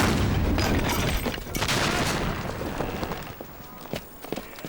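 A ship's cannon fires in a period naval drama with hot shot, giving a loud broad boom that spills into rumbling echoes and scattered clatter, fading over several seconds.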